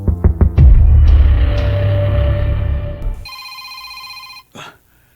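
A cellphone rings with a steady, electronic tone lasting about a second after a burst of louder rumbling noise, then a brief final chirp before silence.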